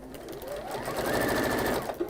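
A sewing machine stitches round bag handles in a steady, continuous whir that builds over about a second, holds close and clear, then stops with a short clunk.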